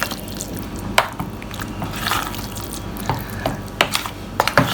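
Mutton tikka marinade is stirred and mixed by hand, giving wet squelching, sloshing sounds with intermittent sharper clicks of a utensil against the bowl, close and fairly clear, without talk.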